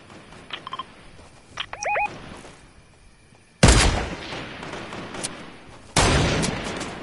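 PS4 shooter gunfire comes in two loud, close bursts, each a sharp blast trailing into a rumbling decay, after quieter electronic tones and short clicks.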